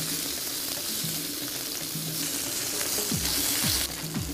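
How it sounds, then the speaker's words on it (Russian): Steady sizzling and crackling of chicken fillet frying in a hot pan, with occasional soft scraping sounds near the end. "Филе цыпленка обжариваем с двух сторон"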